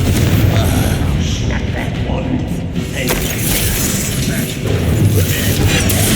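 Loud, dense spell blasts and crashing impacts from Hogwarts Legacy combat with the Confringo fire spell, booming bursts layered over continuous rumbling game noise, with a voice calling out spell names between hits.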